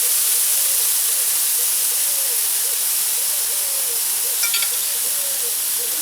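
Ribeye steaks sizzle steadily on a charcoal grill, a loud, even hiss of fat and steam that continues throughout, with a brief faint clink partway through and no talking.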